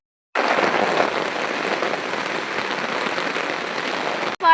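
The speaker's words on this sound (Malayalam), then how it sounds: "ഉച്ച കഴിഞ്ഞപ്പോൾ ഈവനിങ് ആയപ്പോൾ ഭയങ്കരമായിട്ടുള്ള മഴയാണ് ഇവിടെ" Heavy rain pours down at a college during a red alert, a dense, loud, continuous hiss of drops striking surfaces that starts abruptly and holds steady, with no voices.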